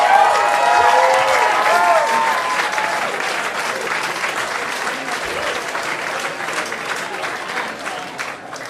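Live pun-competition audience at a Brooklyn comedy venue bursting into sustained applause, loud at first with whoops over the clapping, then settling into a steady, slowly fading roar of handclaps.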